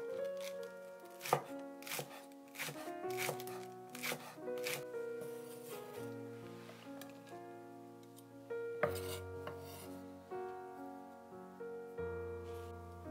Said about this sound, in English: Mince 2 green onions.